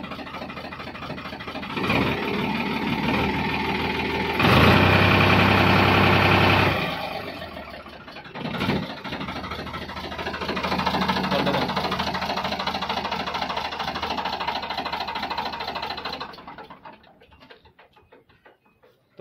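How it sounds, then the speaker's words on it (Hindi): A Farmtrac 45 tractor's diesel engine idles steadily with a dense, rumbling drone that swells briefly louder midway, then fades toward silence at the end; no talk over it. "तो भाई दोस्तों आवाज़ सुन ली ट्रैक्टर की आपने"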